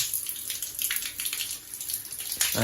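Weak, thin stream of water running through the inlet line into a household electric water heater, a steady soft hissing flow with slight fluctuations and no talking.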